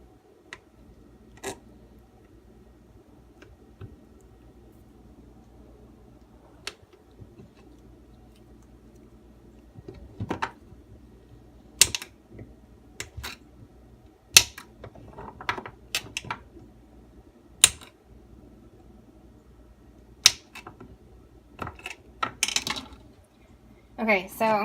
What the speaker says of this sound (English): I'm just going to cut these into little cubes